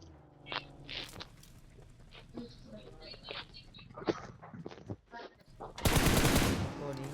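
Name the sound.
gunfire in the video game BGMI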